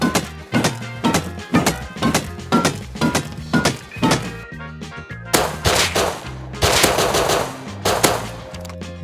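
Gunfire in an online shooter game, with a rapid series of loud close shots, a burst of automatic fire and heavy impacts, dense and forceful throughout.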